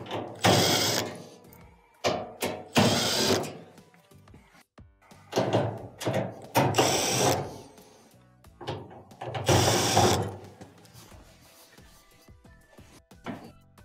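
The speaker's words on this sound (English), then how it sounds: "Then we have multiple Phillips screws on the bulkhead to take it out." Phillips screws come out of an LG dryer bulkhead in a series of close, loud bursts of whirring from a powered driver, separated by short pauses and small clicks.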